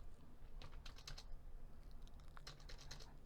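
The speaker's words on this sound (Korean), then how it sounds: "그러면 계산기 눌러서" Calculator keys are pressed for an accounting entry, giving a quick run of light, close taps in two short clusters over a low steady background hum.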